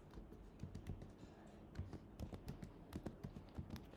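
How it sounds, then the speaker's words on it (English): Typing on a computer keyboard for a Linux terminal command, a quick irregular run of close, quiet key clicks and taps. "here I'm gonna type the command echo, and then here I'm gonna type the string I want"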